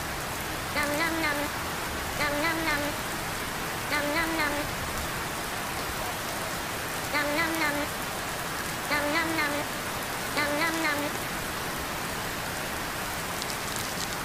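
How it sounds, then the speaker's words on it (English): Rain pattering steadily on tents at a campsite, a constant close hiss with recurring high chirping calls in regular bursts above it. "It's raining."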